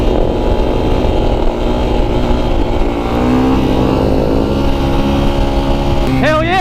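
Loud, sustained motorcycle engine held at high revs during a burnout at a bike lot gathering, droning steadily with shifting harmonics and a sharp rise in pitch near the end, with voices faintly underneath.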